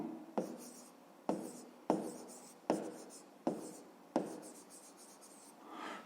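Handwriting during a fifth-grade math exercise: about six separate scratchy pen or chalk strokes come at fairly regular intervals, close and alone, with no voice over them.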